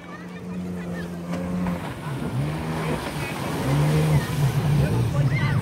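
A motorboat ride off a beach at Malvan, with a steady droning engine that grows slightly louder toward the end, mixed with water rush and people talking nearby.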